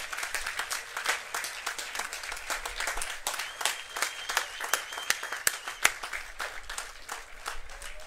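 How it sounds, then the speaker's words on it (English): An audience at the 2018 Dennis-Yarmouth Regional High School graduation ceremony applauds. Dense, sustained clapping fills the hall, with louder individual claps standing out and faint voices underneath. "giving them a mighty Dolphin round of applause?"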